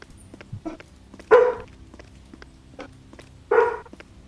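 A dog barks twice, loud and close, about two seconds apart, with fainter scuffling, footsteps and small yips around the barks against a quiet indoor background.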